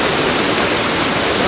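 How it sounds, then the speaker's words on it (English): Rapids of a river rushing past the River Walk in Phenix City, across from Columbus, Georgia, a steady close roar of churning white water with no break and no voices. "This is a little off-take of the rapids that we have here in Columbus, Georgia,"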